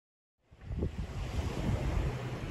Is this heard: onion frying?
no